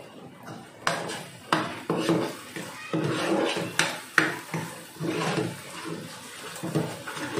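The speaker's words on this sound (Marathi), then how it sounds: "मसाला तेलात चांगला भाजून घे." Masala for butter chicken being sautéed in oil in a pan over low heat, heard as repeated close scraping and clattering of a spatula against metal above a soft background hiss, with no talking.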